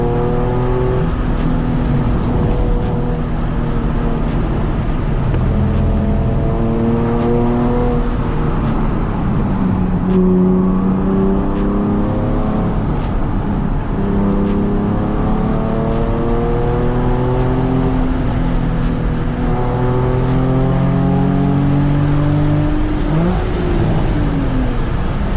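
A Nissan 370Z NISMO and a Subaru STI race along a mountain road, with engines continuously revving and shifting, repeated rising and falling acceleration tones, and occasional tire noise throughout, moderately loud.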